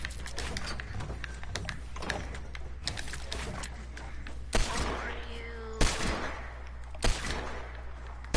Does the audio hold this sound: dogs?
no